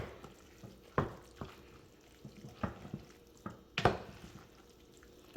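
Cooked ground turkey and ground beef being stirred in a pan, giving soft wet squishes and scrapes in a few scattered strokes, close and fairly quiet, with no one talking.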